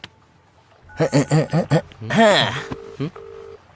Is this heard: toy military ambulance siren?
no